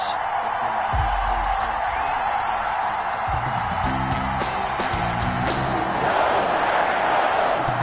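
Stadium crowd roaring in a football video game before a Cleveland Browns versus Green Bay Packers matchup, a steady loud wash of cheering with bellows and whoops, and a low rumbling horn-like swell partway through.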